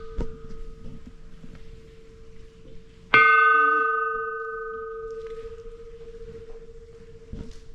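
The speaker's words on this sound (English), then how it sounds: "look at this little bell" A small bell at Mission San Luis Rey is struck once about midway. It rings out close and clear, then the bright tone slowly fades over a low background hum.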